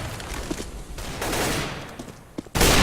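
Gunfire in the Counter-Strike map de_mirage during a competitive match, with scattered shots and short bursts over game ambience, ending in a louder sudden burst.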